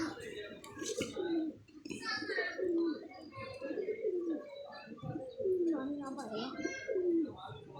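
Pigeons coo repeatedly and close by in soft, throaty rolling phrases, several overlapping calls, with faint voices murmuring in the background.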